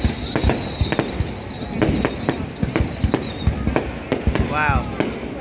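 New Year's Eve 2024 fireworks over Vung Tau, with repeated sharp bursts and crackling booms at an irregular pace, loud and continuous throughout, a whistling rocket rising near the end and voices of onlookers faintly underneath.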